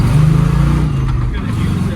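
A 1967 Plymouth Barracuda's engine pulls steadily, its low tone rising and dropping as it shifts up through every gear by 20 miles an hour, with a voice talking over it.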